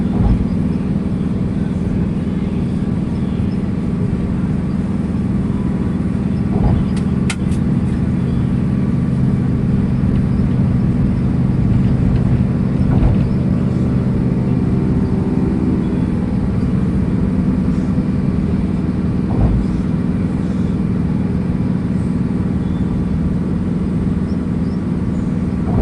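A car on a road trip hums along in a steady, loud low rumble of engine and road noise, with faint thumps and rattles from inside the cabin.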